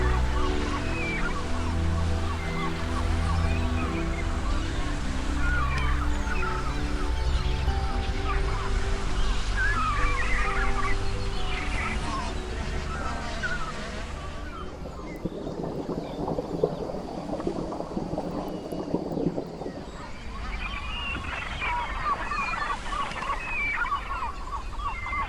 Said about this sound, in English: cormorants, brown-headed gulls, great black-headed gulls, and bar-headed geese lay their eggs, hatch their young, and take care of their offspring